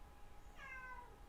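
A cat gives a single faint, short meow midway through, alone over a quiet indoor background hum.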